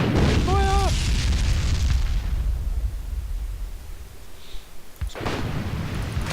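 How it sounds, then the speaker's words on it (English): Artillery rounds in a war video game: a heavy boom and rumbling blast fading away, followed by another sharp explosion near the end, with a brief synthetic tone early on and no talking. "Let's see if we can order some more artillery."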